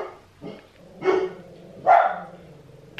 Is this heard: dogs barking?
yes